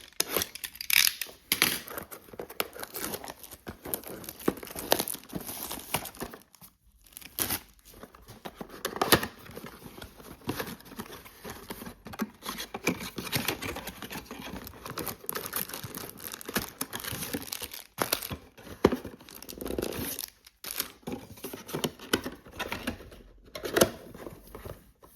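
Packaging of a Topps Chrome mega box is handled and torn open, with continuous crinkling, rustling and tearing of plastic and cardboard close by at a moderate level, with brief pauses.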